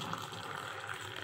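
Hot water poured onto coffee powder, a short steady splashing pour heard close up with no voices.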